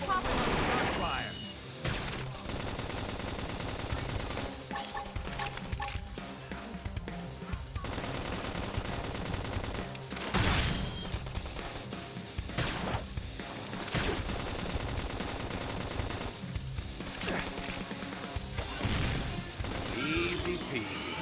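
Bursts of rapid gunfire crackle in a Xenoblade Chronicles X battle, loud rattling volleys that recur across the stretch over game music, with sharp impacts standing out.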